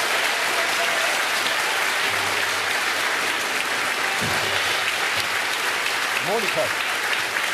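Studio audience applause in a Swiss cooking competition finale: steady, full clapping throughout, with a brief spoken name and faint voices over it.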